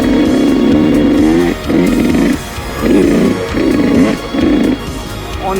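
A 2020 Yamaha YZ125X two-stroke dirt bike rides technical trail terrain, its engine rising and falling in repeated throttle bursts with brief lulls between them, loud and close.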